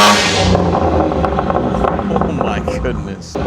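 A BMW G80 M3 with a 4-inch modular midpipe revs in Sport Plus with its exhaust valves open, a loud, close, raspy engine roar held and fluttering throughout, with voices partly mixed in.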